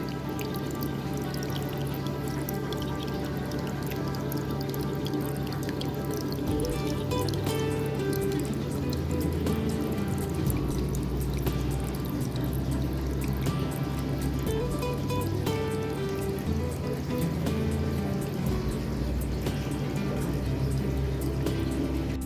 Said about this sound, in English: Pump's going like the clappers.